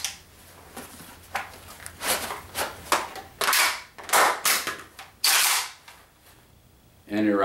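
Carbine magazine reload drawn from a chest bandoleer rig: a quick run of clicks, rustles and sharp metallic snaps, with a loud clack near the end, close and mostly without talk.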